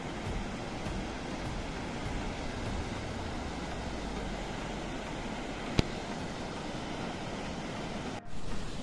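The Ahrabal waterfall in Kulgam sends water rushing down from a height, a dense, steady roar that stays constant throughout, with no one speaking over it.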